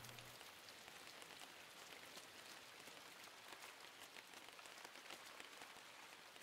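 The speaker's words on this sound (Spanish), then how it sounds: "El sonido de la lluvia es una pasada." Steady rain in the video game Inside pours down in a dense, even hiss with scattered droplet patters, constant and fairly close, with no voices.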